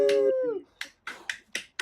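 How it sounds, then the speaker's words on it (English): A clapping sound effect plays on a live stream, heard as five sharp, evenly spaced claps after a brief sung note, fairly close and clear. "I've left the clapping on because I thought there'd be a lot of clapping tonight"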